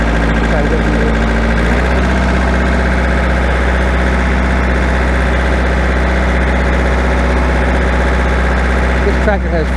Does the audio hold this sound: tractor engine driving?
yes